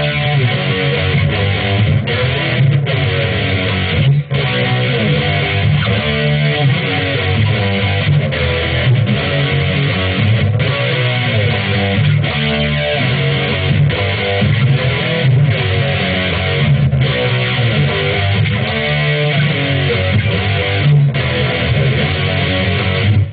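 Distorted electric guitar plays a chorus riff, a steady and dense run of chugging notes that stays loud and close for about twenty seconds, with no voice over it.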